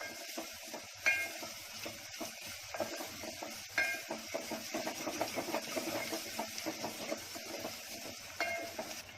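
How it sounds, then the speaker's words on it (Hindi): Grated ginger and garlic sautéing with onions in a pan, a faint low sizzle broken by repeated scraping and clinking strokes of stirring. "अब इसको भी प्याज के साथ 2-3 मिनट भूनूंगी।"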